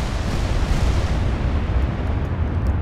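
A battleship's main guns fire a salvo in the naval warship game Ultimate Admiral: Dreadnoughts, making a loud, sustained roaring boom with heavy low rumble that fills the whole moment without any talk.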